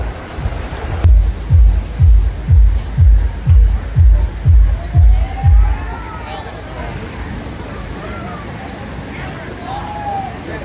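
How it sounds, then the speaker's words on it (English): Water rushes steadily throughout, with a run of rhythmic low thumps in the first few seconds before the flow continues alone. "You wake up and you hear the river."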